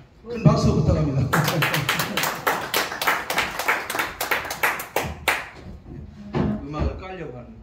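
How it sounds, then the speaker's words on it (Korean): Audience in a Korean lecture hall bursts into applause: a dense run of sharp, close handclaps lasting about four seconds after someone speaks, then a few scattered claps as talk resumes. "큰 박수 부탁합니다."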